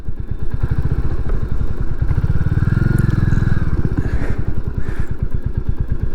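A Royal Enfield Classic 350 motorcycle on a coastal road ride to Newquay: the engine thumps loud and close in a steady rapid rhythm, revs swelling and easing, with no talking.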